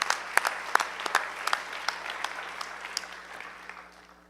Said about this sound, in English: Let's give her some applause as well.